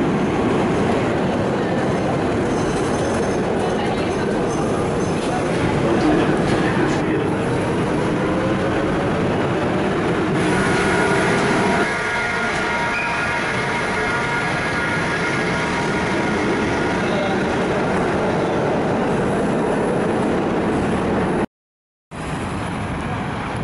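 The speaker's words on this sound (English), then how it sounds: "We're now going to hop on the Metro 1 to Höchster" A Budapest Metro Line 1 train rumbles along the tracks with a steady low roar, wheels clattering and squealing faintly as it runs, then a brief dropout.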